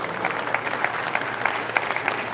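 An audience at a launch ceremony for a BMX World Cup event applauds steadily. The clapping is dense and sustained, with no talking over it.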